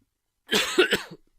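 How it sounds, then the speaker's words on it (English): One person gives a single short, close cough in a quiet room, a few rough bursts lasting under a second before silence returns. "I just coughed."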